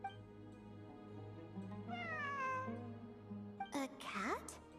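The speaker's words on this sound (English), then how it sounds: "It really is a cat." A cat in the game Genshin Impact meows with a drawn-out, falling cry, followed by a couple of shorter, brighter meows, fairly close over a low background hum.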